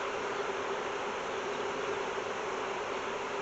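A dense, steady buzz of many honey bees inside a hive, continuous and close with no pauses or voices.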